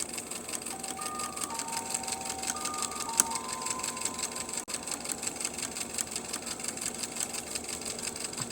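A sewing machine runs steadily while stitching the inside of a garment's neckline, a fast, even mechanical whir with rapid needle ticking at moderate volume, with one sharp click partway through.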